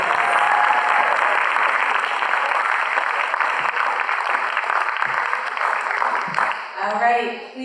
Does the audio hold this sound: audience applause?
yes